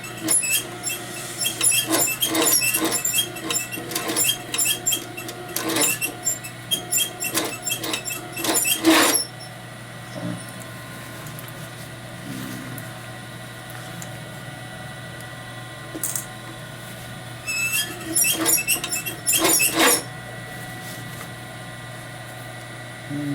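A sewing machine stitches a croc bag slowly, making bursts of rapid close mechanical ticking separated by quiet pauses over a faint steady hum, with no talk.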